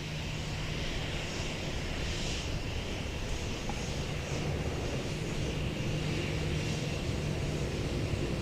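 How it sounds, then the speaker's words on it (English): A Vietjet Airbus A321 jet airliner departs an airport in Seoul, its engines giving a steady, distant roar that holds unchanged throughout, with no talking. "Headed out there was Vietjet to Da Nang, an Airbus A321."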